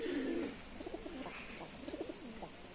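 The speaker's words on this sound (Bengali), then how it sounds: "দেখো এটা লটন মেল পায়রাটা দেখো কত সুন্দর লাগছে" Lotan pigeons coo softly in a loft, a few low bubbling coos repeating over a quiet background hiss.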